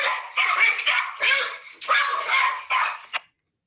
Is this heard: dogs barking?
yes